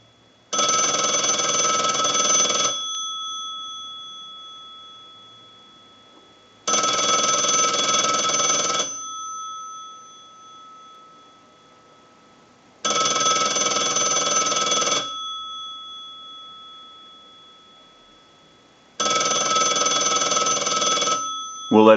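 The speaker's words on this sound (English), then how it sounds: "send a ring cycle like you were getting a call" An Automatic Electric three-slot payphone bell rings in four long, loud bursts, evenly spaced with quiet gaps between them.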